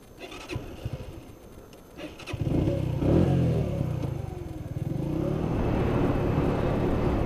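A Lexmoto ZSB 125 motorcycle starts quietly, then the engine catches and revs up and down at close range, settling into a steady, moderately loud run with no speech.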